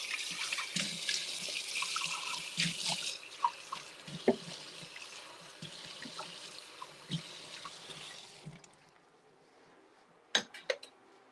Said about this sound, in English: Pour out the rest of my tea.